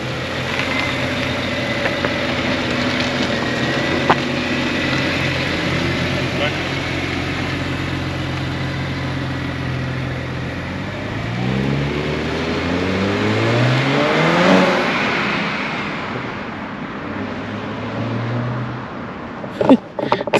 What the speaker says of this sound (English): He's gonna take it for a little spin now to see if he can hear the blow off while he's driving.